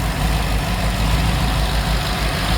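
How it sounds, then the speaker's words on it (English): An LS 6.2 V8 idles on an engine run test, a loud, steady, low rumbling drone that holds unchanged and close throughout. "This engine is a good runner."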